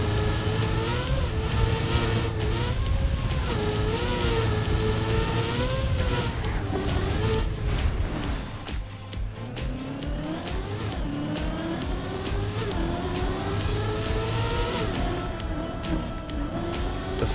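Supercar driven in the Trackmania video game, a continuous revving engine whose pitch rises and falls with gear changes and acceleration, loud and steady throughout with no talking.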